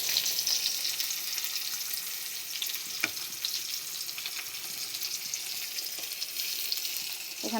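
Chopped onion fries with vegetables in a pan, giving a steady, close sizzle and crackle with an occasional sharp tick or clink, and no voices over it.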